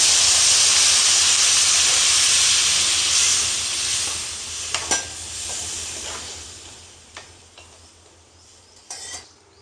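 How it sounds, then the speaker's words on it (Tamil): Tamarind water poured into a hot pan for temple-style puliyodharai hisses and sizzles loudly at first, then the steamy hiss gradually fades, broken by a few clinks of a spoon stirring against the pan. "இப்போ புளியை கரைச்சி ஊற்றிக்கணும்."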